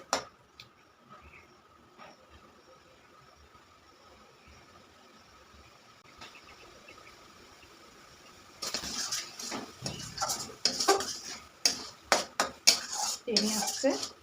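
Utensils scrape and clatter against a pan while a Bengali kharkol bata dish is stirred, the knocks starting quietly and turning loud and busy in the second half.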